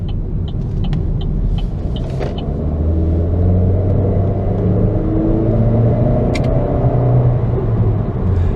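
A 2015 Chevrolet Sonic Turbo drives through traffic, its engine a steady low rumble and drone from inside the cabin with faint road noise and a few light clicks, loud and continuous.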